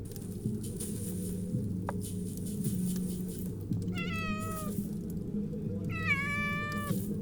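A kitten in a Skyrim cooking scene lets out two distinct meows, one near the middle and one near the end, clear and close over a quiet, steady low hum.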